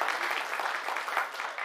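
Dense, steady applause from an audience at a Bihar Vikas Parishad community gathering in Surat, filling the whole stretch at an even loudness with no pauses.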